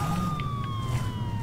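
A police car siren in the video game Saints Row 2 wails with a steady gliding tone over a low engine rumble, fairly quiet and continuous throughout.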